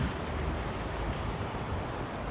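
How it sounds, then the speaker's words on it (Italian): Strong wind buffets the microphone outdoors, a dense continuous low rumble and roar that stays loud and steady throughout with no voice. "c'è molto vento, se no la mia voce se ne va via col vento"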